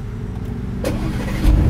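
An Aston Martin engine starts up: a steady low rumble swells as the starter catches, then the idle firms up and grows a little louder toward the end, close by with no talk.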